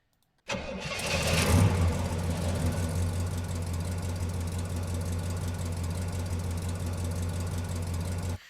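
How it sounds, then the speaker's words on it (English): A car engine in an Unreal Engine MetaSound setup starts with a rising burst, then settles into a steady, unchanging low idle drone that continues to the end. "it will follow the car wherever it goes, and we should be able to hear it at all times"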